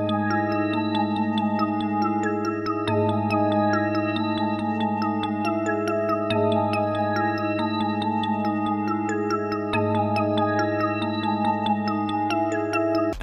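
A dense looping electronic beat plays steadily and loud throughout, built from a Hive choral preset over a sustained bass note, with an arpeggio and a bouncy top line. The bass re-triggers every few seconds, with no vocals or talk.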